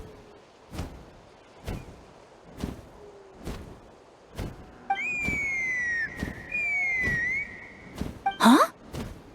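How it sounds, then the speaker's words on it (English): A sustained whistle in Genshin Impact, used to summon a Qucusaur, sounds as two long steady tones in a row, followed by a bright rising burst, over a recurring series of sharp thuds. "That sounded like a whistle."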